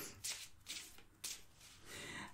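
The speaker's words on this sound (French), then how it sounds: "je prends mon temps pour le brasser, mais j'ai vraiment pas envie de rayer les cartes." Tarot cards are shuffled slowly and carefully by hand, giving several soft, close riffling bursts separated by brief pauses, quiet overall.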